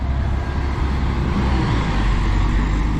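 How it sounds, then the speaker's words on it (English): The number 15 bus rolls past on a street in Santa Pola, Spain, a steady loud engine rumble and road noise close by, with no talking. "number 15, that's the bus you need."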